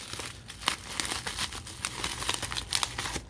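Plastic trading-card break packaging being torn and crinkled open by hand, a steady run of close, loud crackling and ripping bursts with no talk.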